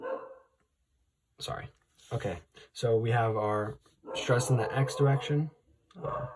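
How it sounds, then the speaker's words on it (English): A dog barks in short bursts in the background while a person talks over it, the barks partly masked by the steady speech. "sorry about the barking"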